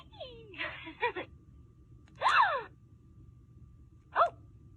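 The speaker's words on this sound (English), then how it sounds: "Like a gasping sound." A Hasbro toy doll triggered by a button press gives out short electronic gasping sounds, three separate breathy bursts with quiet gaps between them, heard fairly close in a quiet room.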